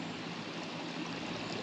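Steady broadband rush of the John Day River flowing around a seated camper in mid-stream on a hot day, a close, continuous stream-like wash with no speech.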